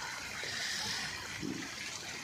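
Steady rainwater trickle with broadband splashing, continuous and fairly close, no voices.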